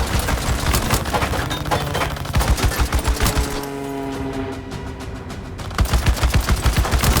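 Rapid automatic gunfire in the action game Unknown 9: Awakening, loud sustained bursts of shots with a short lull in the middle before the firing resumes.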